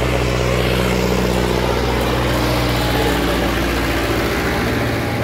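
Turbocharged village tractor engine running steadily, a loud, constant low diesel rumble with a throbbing drone close by, unbroken throughout with no talk.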